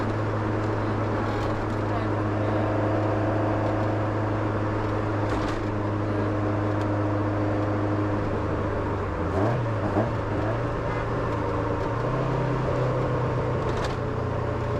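A Toyota AE86 engine drones steadily from inside the car with a few rising and falling revs, while people talk over it.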